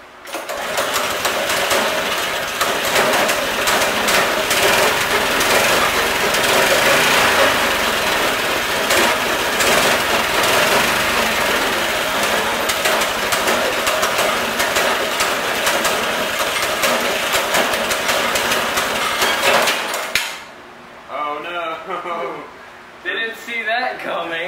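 A go-kart engine with a freshly drilled-out carburetor jet runs loud and buzzy for about twenty seconds, a high rattling drone, then cuts off abruptly, leaving quieter sounds and brief talk.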